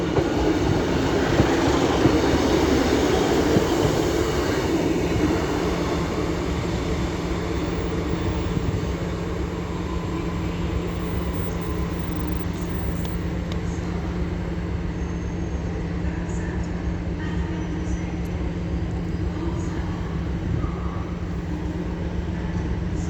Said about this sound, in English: So now coming in is a pairing of Transpennine Express Class 185s from Cleethorpes to Liverpool Lime Street.